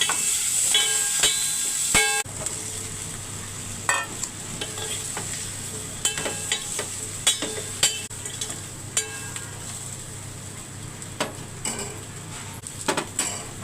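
Spices and vegetable pieces fry in oil in a covered pot, seasoned with fenugreek, cumin, dried red chillies, turmeric and onion, with constant sizzling and repeated sharp clinks and scrapes of a utensil against the pot.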